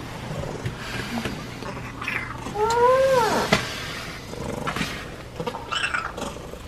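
A house cat gives a single drawn-out, rising-and-falling meow at night in a quiet room, mid-clip, with faint background noise around it.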